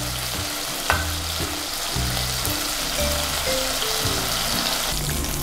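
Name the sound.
prawns frying in oil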